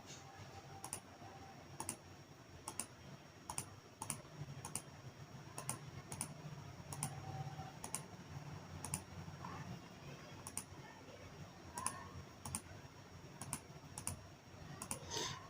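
Keys clack on a computer keyboard as a slider name is typed into GeoGebra, a steady run of light, faint clicks over a low room hum.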